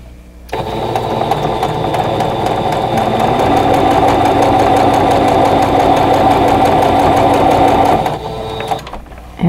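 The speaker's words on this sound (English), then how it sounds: "I'm going to start stitching in the center and then go to the outer corner." A sewing machine runs steadily for about seven and a half seconds, stitching quilt block pieces from the center out to the outer corner, with a constant whirring drone that starts and stops abruptly.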